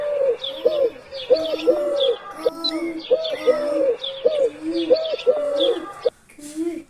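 Children's voices imitate pigeon cooing in a rhythmic string of repeated warbling coos, loud and close, with a short pause just before the end.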